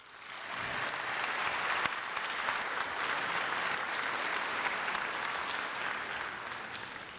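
Steady, sustained applause from a graduation audience in New Orleans, dense clapping that holds at an even level throughout and fades slightly at the end.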